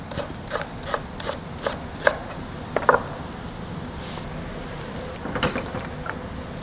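Cooking ingredients chopped on a board, a quick run of evenly spaced knife strikes followed by a few scattered cuts and a short later burst, moderately close with a low background hum.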